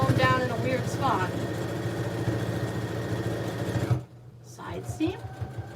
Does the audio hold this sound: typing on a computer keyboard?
no